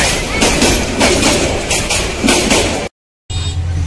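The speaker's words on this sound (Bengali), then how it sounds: "দ্রুতযানের অপেক্ষায় থাকতে থাকতে আরেকটি ট্রেন চলে আসলো, ব্রহ্মপুত্র মনে হয় এটা, লোকোমোটিভ 2910" Bangladeshi Brahmaputra train hauled by locomotive 2910 arriving, loud and close, its wheels clattering in a regular rhythm over a rumbling roar before an abrupt cut and a quieter low hum.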